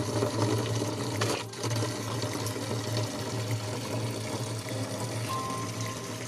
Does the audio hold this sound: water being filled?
yes